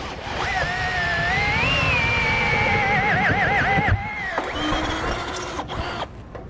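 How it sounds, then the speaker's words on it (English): A drill with a 13/32 bit boring mounting holes in a Blue Ox base plate kit on a 2007 Saturn Vue gives a steady, wavering motor whine for several seconds, then a shorter second run close by. "we're just going to follow those up with that 13/32 again and get all 6 holes drilled out appropriately"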